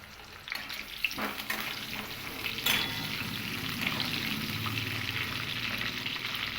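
Potatoes rubbed with salt and turmeric fry in hot mustard oil for a mutton curry, giving a steady, close sizzle with occasional stirring scrapes throughout and no talk.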